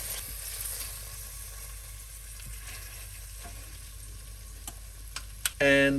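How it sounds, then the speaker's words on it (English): Lamb neck sears in a slow cooker with a soft, continuous sizzle, a few sharp ticks and clicks scattered through it, ending in a louder burst of spitting fat and stirring. "Now let's turn our lamb in a slow cooker."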